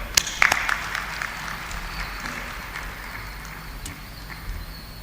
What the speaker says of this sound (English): तो huge round of applause in graduates के लिए.